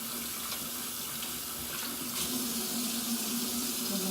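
Steady stream of tap water running into a sink during hand washing, a continuous broadband splash heard alone at close range.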